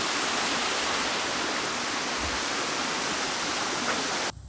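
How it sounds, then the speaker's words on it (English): A waterfall near Cherokee, North Carolina, heard from right on top of the falls, roars as a loud, dense, steady rush that cuts off abruptly at the very end. "You're just right on top of this falls."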